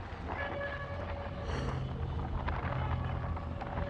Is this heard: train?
yes